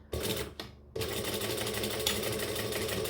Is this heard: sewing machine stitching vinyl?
yes